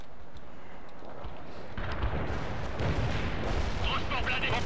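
Anti-aircraft guns fire in the war video game World in Conflict, a dense rumbling barrage of booms that grows heavier and louder partway through and continues steadily.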